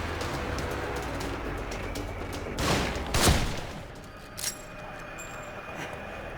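Gunfire in The Evil Within: two brief, loud bursts of shots close together midway through, over a steady murky background din with a faint later knock, and no talking.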